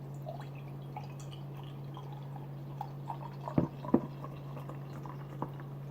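Midnight Sun Son of Berserker, a dark brown-to-black beer, pours into a glass, with soft liquid dribbling and a few brief drips over a steady low hum and no talking.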